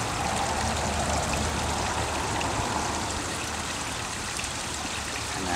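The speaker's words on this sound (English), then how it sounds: "And I'm just gonna water that nice and generously so it's nice and deep." A newly planted ice cream banana tree is watered generously, and a steady, soft stream of water splashes and trickles into the soil without a break, with no talking.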